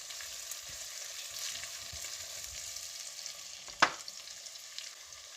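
Meat, Chinese cabbage stems and chopped garlic frying in a pan for laghman, a soft steady sizzle at low level with one sharp scrape or clatter of the utensil partway through.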